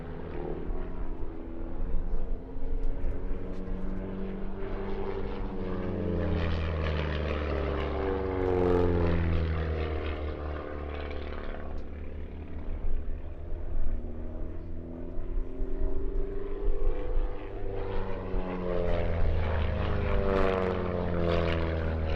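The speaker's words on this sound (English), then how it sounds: "It's almost like their engine sound is duetting." Two propeller airplanes flying together at an air show, a loud continuous engine drone with beating, swirling tones that rise and fall as the pair pass overhead.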